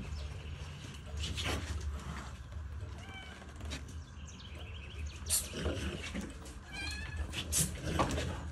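A cat meows several times, close by, with short repeated calls over a low background hum.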